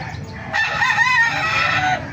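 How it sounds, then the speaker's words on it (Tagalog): A five-month-old silver-gray rooster crows once at a market in Bocaue, loud and close, a long drawn-out call following a short quiet lead-in. "Ayan, napakagandang manok ito mga kamaster."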